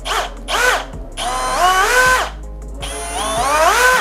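A Bosch GSR 185-Li cordless drill whines through several bursts, the motor pitch sweeping up and down as the variable-speed trigger is squeezed deeper and eased off, loud and close with short pauses between runs.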